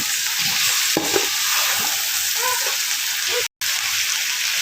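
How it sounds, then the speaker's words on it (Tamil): Onions and green chilli sizzle and fry in a pan for a Chettinadu-style egg gravy while a spoon stirs them, giving a steady, loud hiss with scraping touches throughout. "இதையும் போட்டு நல்லா கிளறி விட்டுக்கலாம்"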